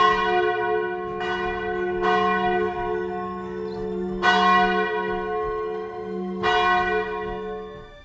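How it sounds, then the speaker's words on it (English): A basilica church bell rings four slow, resonant strokes, each with a long humming decay that overlaps the next, heard clearly at moderate distance with no speech. "And listen to the bell."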